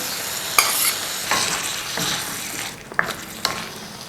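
Yogurt is whisked into potato gravy in a pan, giving a steady sizzling bed broken by a few sharp utensil clicks and scrapes against the pan, with no voices.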